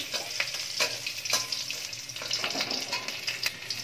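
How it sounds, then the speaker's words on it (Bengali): Ash gourd with cumin and a green chili is stirred as it fries in a pan, with a constant sizzle broken by soft scraping strokes and light pops, and no talking. "হালকা করে একটু নাড়িয়ে চাড়িয়ে নিচ্ছি"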